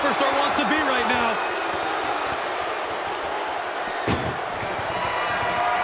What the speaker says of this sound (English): And launched into the back of the ambulance.